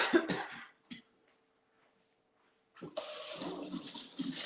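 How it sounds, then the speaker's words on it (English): Water runs steadily from a tap into a sink as food is rinsed off, a continuous close hiss filling the last second and a half after a near-silent pause; a cough and throat clearing come first. "Just rinse everything off."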